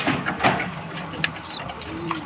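Pigeons coo softly and close by, low repeated calls over light outdoor background noise, with a thin high whistle passing briefly.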